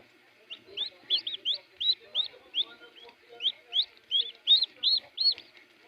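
Hybrid turkey chicks chirp in a steady series of short, high peeps, close and fairly clear, with small gaps between bursts and no talking.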